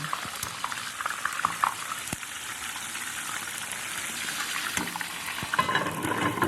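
Oil sizzles and crackles steadily, with scattered sharp pops and spits over a constant hiss, close up and without speech.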